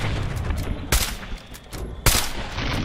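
Gunfire in Fallout 4: Far Harbor aimed at fish, two sharp loud shots about a second apart over a dense, noisy game background with no talk.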